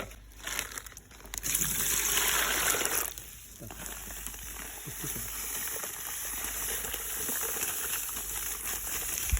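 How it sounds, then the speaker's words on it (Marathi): 13-0-45 fertilizer is stirred into water for a sugarcane spray, producing swishing, gushing water sounds with a louder burst of churning early on, then quieter sloshing and faint rustles. "हे आता आपण तेरा झिरो पंचेचाळीस मिक्स करून घेतोय पाण्यामध्ये"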